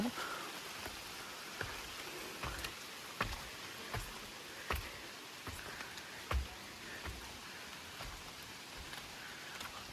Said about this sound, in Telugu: ఇప్పుడు కూడా రెయిన్ ఉందన్నమాట వచ్చిన తర్వాత